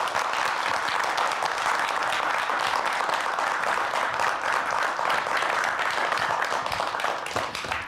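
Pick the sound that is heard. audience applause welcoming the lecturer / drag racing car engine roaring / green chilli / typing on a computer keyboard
audience applause welcoming the lecturer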